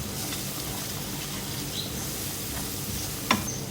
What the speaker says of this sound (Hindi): भूनेंगे मसाले को।